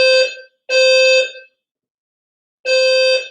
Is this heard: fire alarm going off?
yes